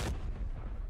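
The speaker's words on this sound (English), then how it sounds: "Grenade." A grenade detonates in the shooter game Arena Breakout, a sudden loud boom with a sharp onset that decays into a rumbling tail lasting about a second, heard alone with no talk.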